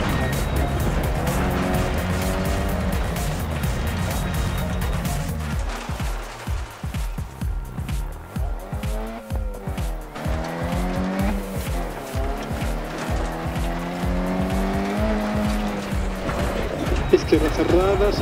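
Mini Cooper S rally car in DIRT Rally on the Rally Greece stage: a loud, revving engine with tire squeal and skidding through corners, and a co-driver's voice calling pace notes over it.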